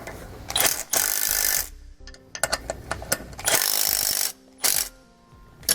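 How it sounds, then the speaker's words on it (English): Wrench tightening suspension bolts on the frame of a 2018 Newmar Canyon Star motorhome during a SumoSprings install, with short bursts of ratcheting clicks and metallic clatter broken by pauses. "Now what we're going to do is we're going to take a 9/16. We're going to tighten these bolts down."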